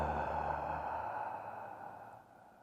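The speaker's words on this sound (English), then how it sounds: "Soft exhale out the mouth." A soft, breathy exhale released through the mouth during yoga breathing in a bridge pose class, a gentle airy rush that slowly fades over a couple of seconds with no talking.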